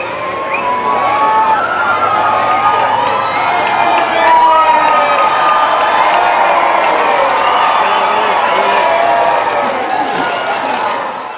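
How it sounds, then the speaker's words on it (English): Large street crowds roar and cheer loudly and continuously as the Queen's car comes into view from the direction of the Minster, with high shouts and whoops rising out of the sustained din. "a roar went up from the crowds as the Queen's car appeared from the direction of the Minster"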